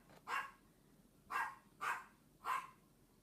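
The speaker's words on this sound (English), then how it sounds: "Sorry for the critter barking in the background there." Four sharp dog barks ring out in the background at uneven intervals, each clear but soft, with no one speaking over them.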